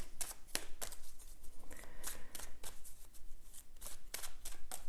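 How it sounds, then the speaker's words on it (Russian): Tarot cards being shuffled by hand, a run of crisp riffling flutters and soft slaps repeating through the clip, close and fairly quiet with no talking. "Для начала мы перетасуем карты еще раз."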